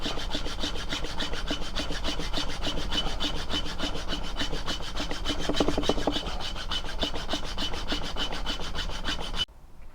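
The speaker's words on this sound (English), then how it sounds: "So that'll just need a little bit of filing now" A file rasps steadily on a mild steel blade blank for a seax knife in fast, even back-and-forth strokes, close and continuous for about nine seconds before stopping abruptly.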